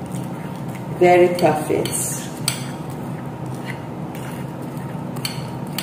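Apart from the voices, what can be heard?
mixing grain mixture with oil in a bowl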